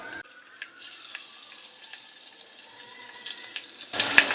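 Crushed garlic dropped into hot oil tempering with asafoetida for yogurt kadhi, a steady bright sizzle and frying hiss with small pops, rising louder toward the end.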